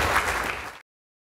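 An audience at a SciPy 2014 conference talk applauds in a dense, steady wash of claps that cuts off abruptly after under a second.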